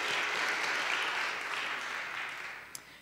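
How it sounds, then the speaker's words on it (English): Audience applause at a college alumni awards ceremony honoring an achievement award recipient, a steady dense clapping from a crowd that holds for about three seconds and then begins to taper slightly. "Applause."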